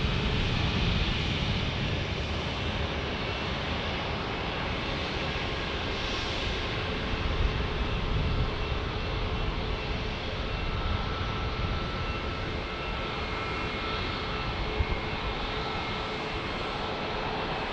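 A JetBlue jet at San Diego airport, heading cross country, gives a steady, distant broadband roar that holds evenly throughout with no voices.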